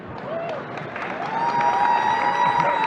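An audience at a banking technology conference panel on quantum computing breaks into applause and cheers for a speaker, a steady crowd clapping that swells and holds, moderately loud in a large hall.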